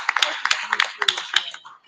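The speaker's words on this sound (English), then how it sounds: "give all the panelists a round of applause." Audience at a Black economic empowerment conference clapping for the panelists, a steady patter of applause mixed with scattered voices in the room.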